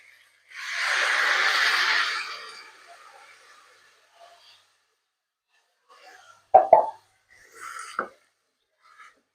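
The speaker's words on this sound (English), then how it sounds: "And now from here I'm going to add 2 tins of coconut milk." Two tins of coconut milk poured into butternut squash soup, a soft glugging pour lasting a couple of seconds, followed by a few faint plops and knocks in a quiet kitchen.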